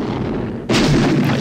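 A sudden loud blast bursts out in a video game mission, cutting abruptly into a low rumbling background and ringing on as a bright, sustained boom without any talk.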